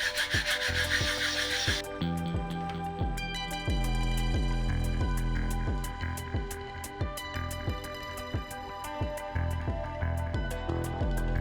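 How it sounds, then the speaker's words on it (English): Repeated rhythmic rubbing strokes of sandpaper on a small spaceship model part, close and steady, following a brief burst of hiss at the start. "Give it a quick sanding, and it's ready to connect to the top."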